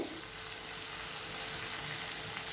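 Boiled broad beans fry in a pan with curry leaves, giving a loud, steady, close sizzle with no pauses and no talking.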